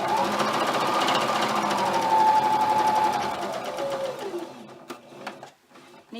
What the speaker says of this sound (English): So I'm going to stitch around these 3 sides. Back stitch at the beginning.